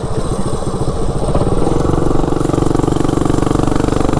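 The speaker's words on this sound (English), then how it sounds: "This bike actually runs pretty good." A mini bike's small engine runs steadily and loudly up close, a buzzing, rhythmic putter that climbs slightly in pitch and holds a constant drone with no voices over it.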